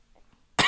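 One short, harsh cough bursts out close to the mic at the very end, after near silence.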